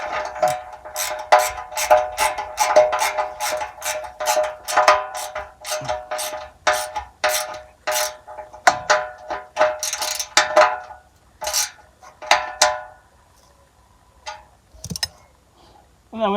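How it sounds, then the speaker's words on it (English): A ratchet tightening a 10mm bolt on the exhaust hanger of a 2010 Renault Clio Mk3, a series of close, sharp clicking bursts in quick rhythmic runs, pausing and stopping near the end. "And now we just got to tighten up this 10mm."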